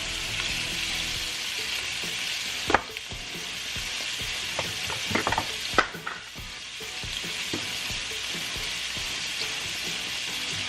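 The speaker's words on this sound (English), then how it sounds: "I'm gonna add some butter and baste the scallops with the butter." Scallops fry in a pan with butter, giving a continuous bright sizzle close up, broken by a few sharp clinks and scrapes of a utensil, with no talking.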